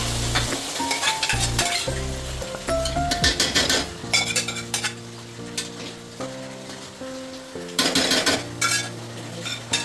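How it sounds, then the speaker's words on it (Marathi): Marinated mutton, already pressure-cooked, is tipped into a pot of hot oil and onion with Kashmiri red chilli for biryani, bringing loud bursts of frying, repeated metal scrapes and clinks of a spoon against the pot, close up. "आणि आता कुकरमध्ये शिजवलेलं मटण जे मॅरिनेट केलेलं ते टाकत आहोत."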